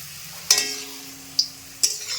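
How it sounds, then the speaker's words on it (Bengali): Nimki frying at home in hot oil, a steady soft sizzle with three sharp clinks or scrapes of a utensil against the pan spaced across the short span, close and without talk. "দেখতে পাচ্ছ কিভাবে বাড়িতে নিমকি ভাজা হয়"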